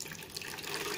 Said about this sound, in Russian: Для того, чтобы пролить ее еще раз, я воду сливаю опять в такой же